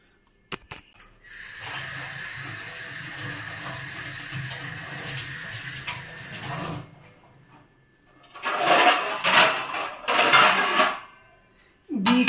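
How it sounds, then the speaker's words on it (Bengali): Beetroot and carrots are washed under a running kitchen tap, with a steady stream of water splashing for several seconds, then louder, uneven gushes and splatter as the vegetables are rinsed. "বিট আর গাজরটাকে আমি ধুয়ে নিয়েছি"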